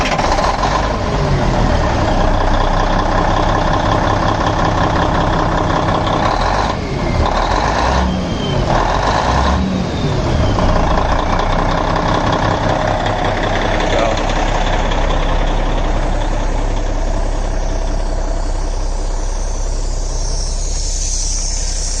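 A Cummins N14 diesel engine runs in someone's 658 service rig truck, a loud, steady rumbling idle with a few brief dips, heard close up with a voice speaking over it.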